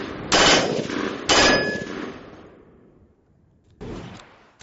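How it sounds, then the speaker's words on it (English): Three short bursts of automatic fire from a 416 rifle in 5.56 at 15 yards, each sharp and loud with a ringing tail, the last burst coming after a pause. "This time I've got the 416 and we're going to do the same thing, 3 bursts of automatic fire at 15 yards"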